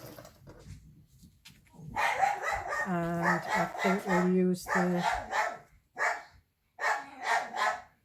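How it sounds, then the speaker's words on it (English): An excited dog barks repeatedly indoors as someone arrives home, sharp clustered barks and a drawn-out whine mixed with someone talking nearby. "so the dog's going silly"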